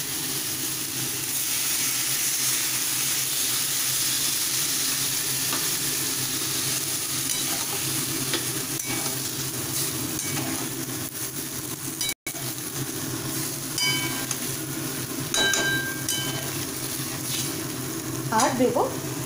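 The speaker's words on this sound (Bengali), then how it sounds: "এবার আমি এর মধ্যে দিয়ে দেব পরিমাণ মতো জল" Steady loud sizzling of a fried spice masala for rui fish curry as water is poured into the pan, a continuous hiss and bubbling with faint stirring clinks throughout and no speech.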